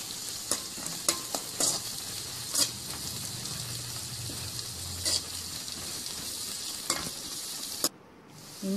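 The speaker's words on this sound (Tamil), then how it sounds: "அதனால் விடாமல் கிண்டிகிட்டே இருக்கணும்" Ginger garlic paste frying in a pan for a spiced eggplant fry, stirred steadily, giving a constant close sizzle broken by sharp scraping strokes of the spoon.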